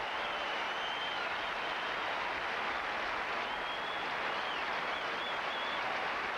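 Sustained applause from the Fenway Park crowd at a Seattle at Boston baseball game, saluting pitcher Curt Schilling, broad and steady with cheers mixed in, heard at a distance without interruption.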